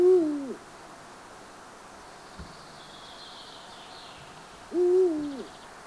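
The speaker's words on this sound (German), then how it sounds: "Seinen Namen verdankt der Uhu dem Klang seines Rufes." Deep hoots of a Eurasian eagle-owl sound twice, one near the start and another about four seconds later, clear against quiet night ambience.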